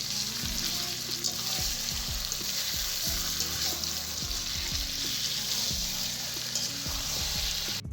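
Chicken biryani meat cooks with salt and spices in a hot pot, a loud, dense sizzle running without pause while a spoon stirs steadily underneath, no speech.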